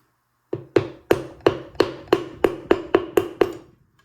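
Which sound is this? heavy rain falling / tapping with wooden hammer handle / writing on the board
tapping with wooden hammer handle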